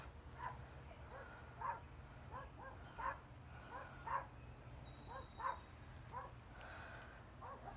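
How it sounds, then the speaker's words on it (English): A small dog barks outdoors in a garden, a string of about seven short yappy barks at a steady pace, distant and faint over low background rumble. "Look at that little doggy."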